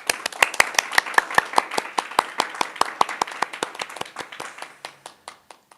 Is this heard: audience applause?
yes